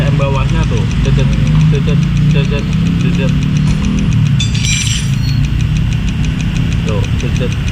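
A Honda Beat FI scooter engine with a broken injector nozzle idles unevenly and sputters at low RPM, a steady close rumble with irregular knocks as someone talks over it.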